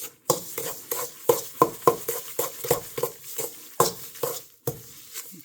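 Egg whites being gradually mixed into a butter and sugar batter for strawberry cake, a close series of rhythmic wet scraping and stirring strokes against a bowl.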